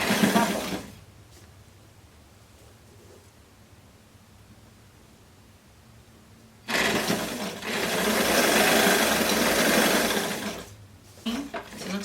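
A sewing machine stitches fabric for a beginner's blouse in two loud buzzing runs, one short and one longer, with a quiet stretch between them, heard up close.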